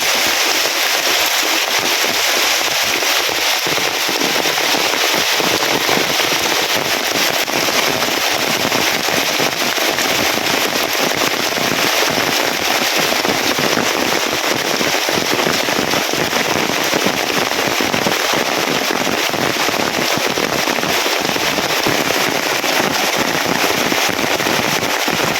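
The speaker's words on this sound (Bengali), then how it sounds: "খালি তো বৃষ্টি না আপনার সাথে বাতাসও আছে" Heavy rain driven by wind pours down in a dense, loud, unbroken roar and patter on the surfaces of a village home, lasting the whole time with no voices.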